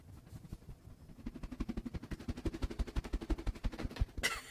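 A stretchy monkey noodle fidget toy is pulled and stretched close up, giving a rapid series of quiet ribbed clicking pulses that speed along for a few seconds before a brief burst of noise at the end.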